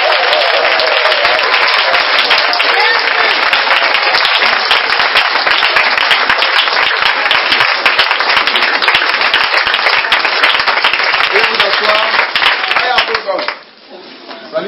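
A church congregation bursts into loud, dense applause to acclaim Jesus, a steady wall of many hands clapping with voices mixed in, sustained for several seconds before dropping off abruptly near the end.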